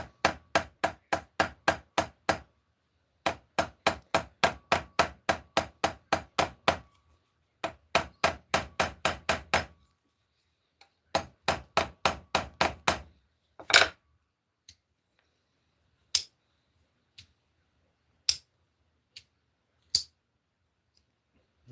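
Hammer peening the pins of a slipjoint folding knife, sharp metallic taps in fast, steady bursts of a dozen or more strikes, then slower isolated blows spaced about two seconds apart, close and clear with no talk.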